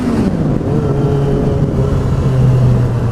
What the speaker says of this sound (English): A little rev bump for you guys in the tunnel.